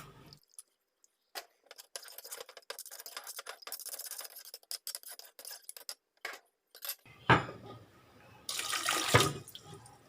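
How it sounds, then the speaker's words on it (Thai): Water is poured into a cooking pot of Thai vegetable curry with pork ribs, with scattered small clatters at first and then louder bursts of splashing and pouring toward the end. "ก็จะเติมน้ำนะคะ ให้พอปริมาณที่เราต้องการ"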